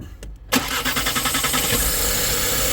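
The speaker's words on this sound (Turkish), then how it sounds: "Marşa bas abi." An Audi Q3 with a fuel leak cranks briefly, then its engine catches and settles into a loud, steady idle up close.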